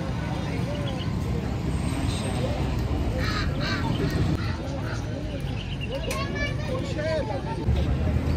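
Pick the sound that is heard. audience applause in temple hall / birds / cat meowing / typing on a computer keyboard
birds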